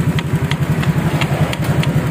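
A Honda Vario motorcycle engine idles close by in an even, pulsing rhythm, with a light metallic rattle from a loose bolt ticking along with the beat.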